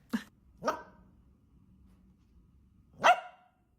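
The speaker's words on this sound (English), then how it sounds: "a few people actually asked if he barks, and he normally doesn't unless I'm ignoring him" A pet dog barks three times up close, two quick barks followed by a pause and then a louder third bark in a quiet room.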